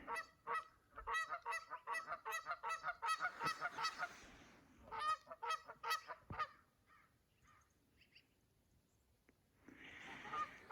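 Canada geese honking outdoors on a sunny, still spring day, a loud close run of repeated rhythmic honks from several birds, then a pause with scattered calls before another burst.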